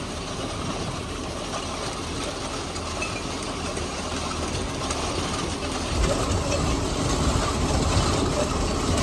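An MTZ-892 tractor runs while sowing wheat with an SZ-3.6 seeder, giving a steady, loud low engine drone with mechanical rattle. The sound grows slightly louder and rougher partway through.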